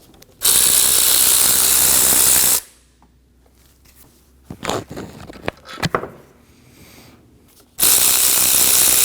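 A ratchet spins off 14mm engine mount bolts on a 2016-2022 Honda Pilot 3.5L V6, with two loud, sustained bursts of rapid clicking separated by a quieter stretch of scattered metallic knocks and handling noises.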